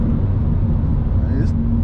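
A 2020 BMW M2 Competition (F87), tuned, heard from inside the cabin while accelerating: a steady loud low engine rumble and drone, with a brief higher-pitched squeal near the end.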